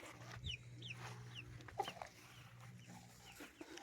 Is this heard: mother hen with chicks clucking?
yes